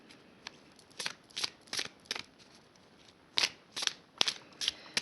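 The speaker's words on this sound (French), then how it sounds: "Allez, on va piger 3 cartes." Oracle cards are shuffled and drawn from a deck, a series of quick crisp riffling and flicking bursts, close and quiet, with no talk.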